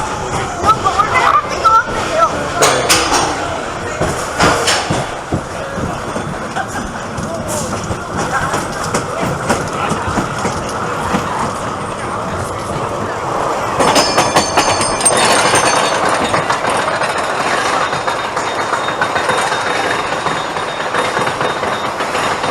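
The 40-year-old Dahlonega Mine Train roller coaster at Six Flags Over Georgia rumbles and clatters along its track, rattling steadily, with a crowd's murmur and some louder noise midway.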